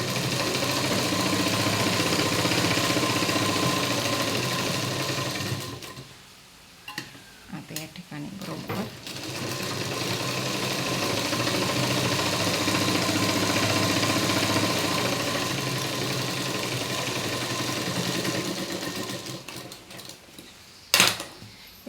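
A sewing machine runs steadily, stitching a broad lace trim onto a V-shape blouse, with a brief pause partway before the whirring resumes and a sharp click near the end.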